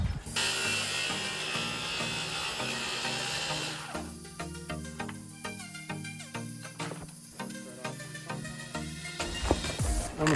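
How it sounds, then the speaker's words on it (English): A small handheld sawzall cutting on a ramp build, a buzzing reciprocating drone that runs loudly at first and then continues with a rougher, choppier texture. "I'm a fan of these little handheld sawzalls."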